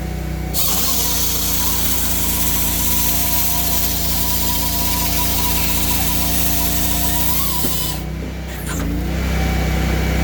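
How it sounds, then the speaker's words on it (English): A firewood processor's engine runs loud and steady while it saws off the end of a log, a continuous close mechanical drone with a brief dip and clunk near the end. "And then I cut off the log."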